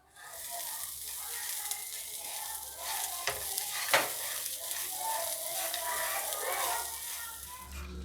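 Pumpkin, sunflower and melon seeds roast in a spoonful of ghee in a pan, a steady close sizzle with stirring scrapes running throughout, with no talking.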